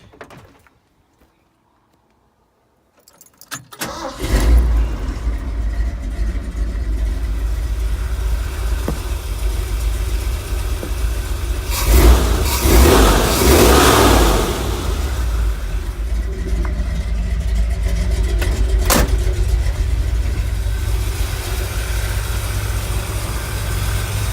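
A 1978 Ford Bronco with a 460 engine and a weak battery, starting after a few seconds of near silence. It then runs at a steady, loud idle close by, with a surge of revving partway through and no talking.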